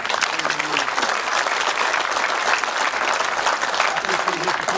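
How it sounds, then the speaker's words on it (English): Audience at a change of command ceremony at Sierra Army Depot applauds a retiring staff member, a sustained wash of clapping from many hands with some voices mixed in. "Give him a round of applause."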